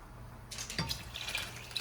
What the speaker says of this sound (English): So we're also gonna add more water.